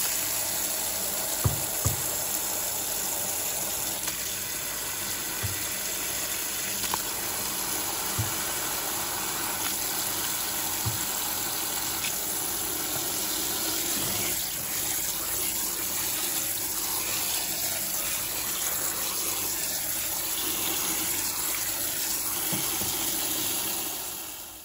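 Cold water runs steadily from a tap, a continuous close rushing hiss that never stops, with a few faint knocks and clinks underneath and no talking.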